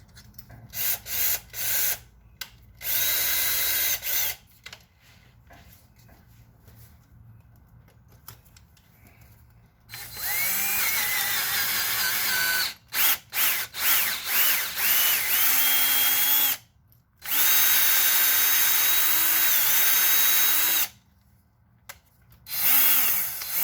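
A power drill bores into the engine of a 2003 Toyota Tundra 4.7 V8 with 420,000 miles, running in loud sustained bursts of several seconds separated by short pauses and quieter clicks and handling noises.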